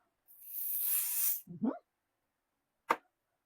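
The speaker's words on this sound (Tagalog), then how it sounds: "Ito, spray natin to." A can of hair spray lets out one sustained hiss of about a second, followed by a brief rustle and a sharp click, close and alone with no talk.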